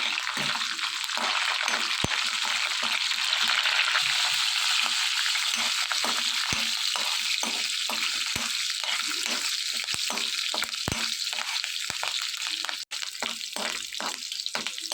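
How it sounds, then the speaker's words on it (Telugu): Curry leaves, garlic, cumin and dried red chillies fry in hot oil with a steady loud sizzle, while a utensil scrapes and stirs in quick repeated strokes throughout. "కరివేపాకు ఎల్లుల్లిపాయలు జీలకర్ర ఎండుమిర్చి ఇవన్నీ కూడా వేడెక్కిన ఆయిల్లో వేసుకోవాలి ఇవన్నీ కూడా ఆయిల్లో ఫ్రై చేసుకోవాలి"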